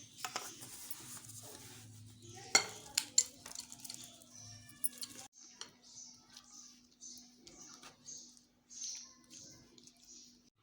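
Fruit is stirred into cream for a creamy fruit chaat, with soft clinks and taps of a spoon against a bowl, wet squishing and irregular light knocks, close and fairly quiet, over a faint hum.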